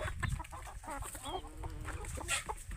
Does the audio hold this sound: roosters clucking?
yes